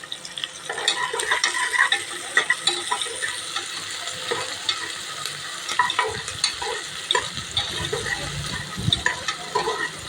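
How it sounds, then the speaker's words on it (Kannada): Chopped onions sizzle and pop in hot ghee alongside green chillies and garlic paste, stirred steadily with a utensil scraping the pan; a continuous close, crackling fry without speech. "ಈ ಉಳ್ಳಾಗಡ್ಡಿ ಗೋಲ್ಡನ್ ಕಲರ್ ಬರೋ ಮಟ್ಟ ಈ ತುಪ್ಪದಾಗ ಫ್ರೈ ಮಾಡ್ಕೋಬೇಕು."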